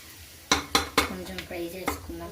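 Whole biryani spices, bay leaf and cumin, frying in a pan, with a few sharp clinks of a metal spoon against the pan and a soft sizzle between them, close and fairly loud.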